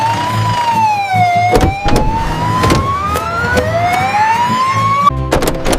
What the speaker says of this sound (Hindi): एम्बुलेंस यहाँ है।